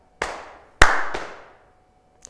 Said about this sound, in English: Number one is a pat on your legs, a clap in your hands, and a pat in your legs.